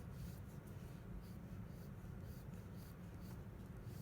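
A pencil draws a cast shadow on paper during a still-life sketch, giving a steady, soft, close scratching that continues without pause against a faint room hiss.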